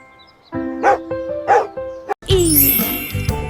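A dog gives a couple of short, close barks and yips in a children's alphabet rhyme, followed by a burst of bright backing music.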